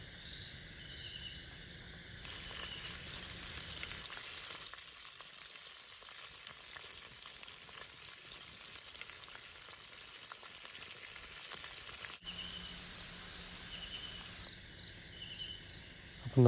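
A whole chicken frying in a pot of oil outdoors in a village kitchen, with steady loud crackling and hissing throughout and a few brief louder bursts, no talking.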